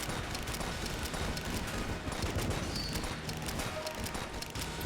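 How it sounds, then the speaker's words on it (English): Explosions burst in the top-down shooter game Enter the Gungeon, a dense, noisy clatter of rapid blasts and impacts that continues without a break, with no talking. "Just random explosions."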